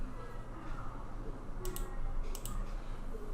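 A computer mouse clicks on a Facebook link with a couple of crisp, quick double clicks heard over a steady low room hum.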